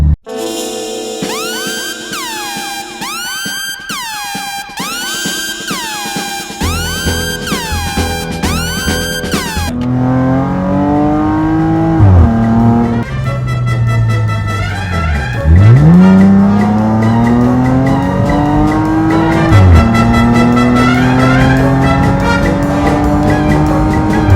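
A Porsche Panamera S E-Hybrid fitted with a custom exhaust revs loudly and close by, its engine note rising and falling in repeated sweeps after a stretch of steady electronic tones at the start.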